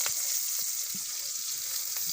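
Chopped onion sizzles steadily in a hot kadai alongside five-spice seeds, torn bay leaf, cumin and green chilli for a prawn dish, a continuous close frying hiss with a few soft stirring knocks and no voices.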